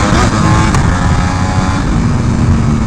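A Ducati Superleggera V4 motorcycle engine revving during a wheelie, a loud, close, steady roar with strong wind rush throughout.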